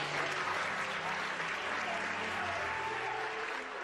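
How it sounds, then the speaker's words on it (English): A studio audience applauds at a comedy show, dense steady clapping and crowd noise filling the room without pause. "Are we clapping because they're hurt?"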